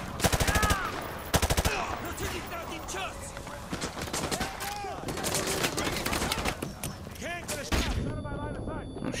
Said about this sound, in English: I got two more grenade launcher shots